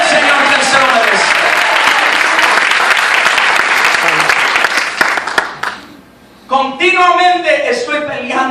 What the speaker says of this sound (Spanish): Un fuerte aplauso al Señor que se lo merece.